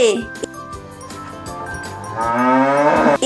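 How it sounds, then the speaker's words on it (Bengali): A cow and calf mooing, a loud, close, drawn-out low call lasting a few seconds and rising toward the end, with a faint tinkle in the background. "গয় গরু বাছুর দাঁড়িয়ে আছে"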